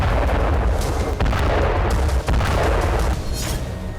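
KH-101 cruise missile strikes hit Ukrainian ground in loud, continuous rumbling explosions and deep booms that fill the whole stretch, with a few sharper blasts and no talking.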